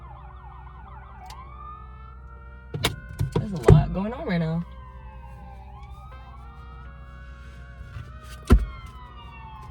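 An ambulance siren wails in the background, its rising and falling tone drifting past beneath a voice, with a few sharp bumps and louder moments midway before the siren fades as it moves off.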